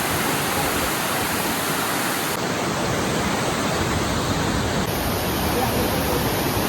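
Athirappilly waterfall roaring, a dense, constant broadband rush of falling water that fills the whole clip, loud and unbroken, with no distinct voices rising above it.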